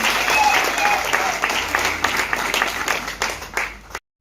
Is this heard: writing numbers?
no